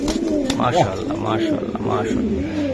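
Budapest racing pigeons cooing in a loft, several soft rolling coos repeating close by while someone talks over them.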